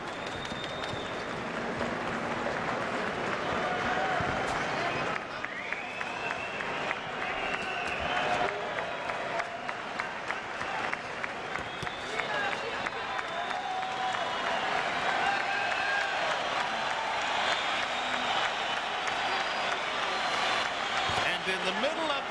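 A packed boxing arena at Madison Square Garden applauds and cheers as New York City firefighters in uniform enter mid-fight, sustained loud clapping and crowd roar filling the hall, with a scattered murmur of voices underneath.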